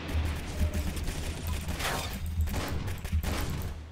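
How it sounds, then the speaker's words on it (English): Rapid gunfire from two players shooting at once in the video game Arsenal, a dense run of overlapping shots and booms that continues steadily at close range without talk. "we were firing at the same time. It's like boom, boom."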